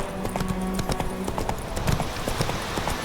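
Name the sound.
horse Roach galloping, hooves clip-clopping, from video game The Witcher 3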